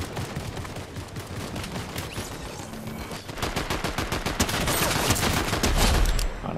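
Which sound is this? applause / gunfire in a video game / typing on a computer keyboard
gunfire in a video game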